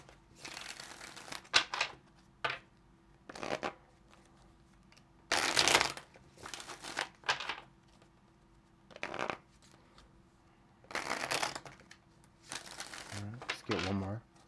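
Tarot cards are shuffled close up in repeated bursts of riffling and flicking, separated by short pauses. A few soft crinkles also come through, and there is no speech.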